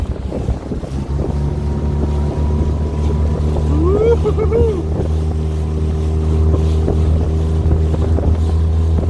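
A Saturn ZK380 inflatable boat's motor drones loudly and steadily at full throttle on a lake, with wind buffeting the microphone and a brief shout partway through.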